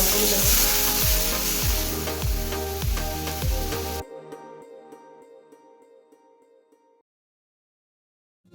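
Spinach paste for palak paneer hits a hot pan with a loud, dense sizzle that fills the first few seconds, then quickly dies away to near quiet.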